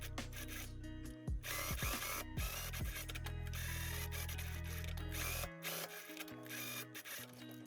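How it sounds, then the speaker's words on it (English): A sewing machine topstitches a fabric pocket about 5 millimeters from the edge, a close, continuous motor whir with mechanical clicks that stops abruptly near the end, leaving quieter handling noise. "I'm gonna top stitch this down like 5 millimeters next to the edge"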